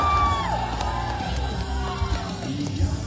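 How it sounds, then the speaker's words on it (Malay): A crowd cheers, yells and whoops with steady energy at an outdoor political rally in Semporna, Sabah, a dense continuous wall of voices lasting a few seconds. "Berikan tepukan gemuruh untuk Haji Abdul Haji Abdul."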